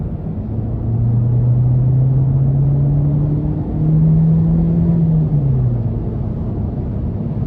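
Naturally aspirated 1.6-liter four-cylinder in a 2024 Hyundai Elantra Limited revs hard under acceleration, a steady droning engine note rising in pitch, dipping briefly at a shift, then climbing again before easing off.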